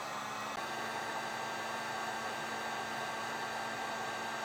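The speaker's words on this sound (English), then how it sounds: "take our heat gun and shrink it down" A heat gun shrinking a heat-shrink connector on a Curt T-connector trailer wiring harness for a 2018 Ford Transit gives a steady, fairly quiet blowing hiss with a faint hum, alone and without pauses.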